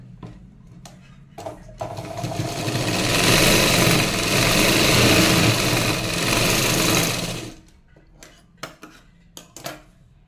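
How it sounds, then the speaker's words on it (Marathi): A sewing machine stitches a tuck on a padded blouse, a steady rapid mechanical chatter lasting about five seconds, framed by quieter handling clicks and fabric rustle before and after. "अजून एक टिप मी इथे मारून घेते अगोदर।"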